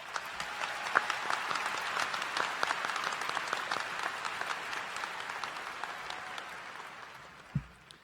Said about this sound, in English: Let's welcome them with our applause.